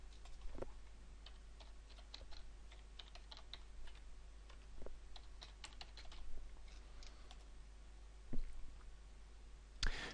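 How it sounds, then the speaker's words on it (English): Soft, quiet keystrokes on a computer keyboard as a login username and password are typed, faint irregular clicks over a steady low hum, with a few louder key presses spaced out through the clip. "I'm going to enter my login username and password, remembering to type carefully, and then press the return key"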